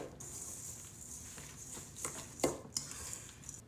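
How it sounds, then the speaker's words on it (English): Egg and other ingredients are mixed in a bowl, giving soft scraping and light clinks of a utensil against the dish, fairly quiet and close, with a few sharper taps near the end. "make sure you get no shells into your mixture. Mix everything up."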